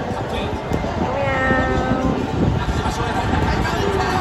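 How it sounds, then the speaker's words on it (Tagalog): A cat meows from a giant 3D cat display on a Tokyo street. The meows are heard over a loud, steady bed of crowd chatter and city bustle. "Ayan pala yung pusa na nakikita ko parang 3D"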